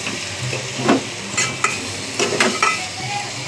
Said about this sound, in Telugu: చికెన్ వేసేసుకోవాలి. చికెన్ వేసుకుంటే కలుపుకోవాలి.